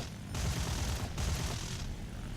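Aircraft cannon on an IL-2 in a combat flight video game fires in sustained rapid bursts, a dense rumbling chatter under continuous engine drone, loud and close with a brief pause between volleys.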